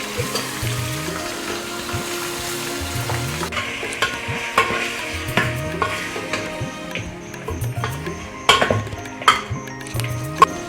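Chicken and chopped onion sizzle and crackle in hot oil over a wood-fired clay stove while a utensil stirs and scrapes the pan in repeated strokes, with occasional clinks against the metal.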